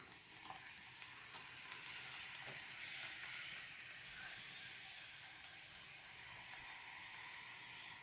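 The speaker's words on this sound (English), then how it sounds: "all that steam, all that gas escaping" A Russian military ration heater hisses steadily, pushing out steam and gas in a continuous broadband rush with faint crackles, alone and fairly quiet throughout.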